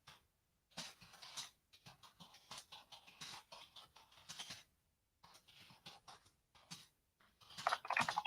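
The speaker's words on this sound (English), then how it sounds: "And then my poor typing there." Fingers type on a computer keyboard, close and clear, in quick bursts of clicking keystrokes broken by short silent pauses, with no talking.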